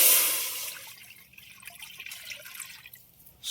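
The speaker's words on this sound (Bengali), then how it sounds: "চিকেন সুইট কর্ন স্যুপের জন্য আমরা ফার্স্টেই জল দিয়ে দেবো।" Water pours into a cooking pot for chicken sweet corn soup, a soft, steady splashing trickle that starts a little louder and then settles into a faint, continuous flow.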